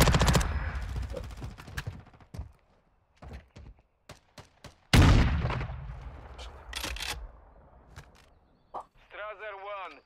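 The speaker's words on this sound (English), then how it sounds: "Pop him with the shotgun." Gunfire in a Call of Duty Modern Warfare match, with a shotgun among sharp, loud blasts in clusters and single reports, under a speaking voice, ending in an electronic chirping effect.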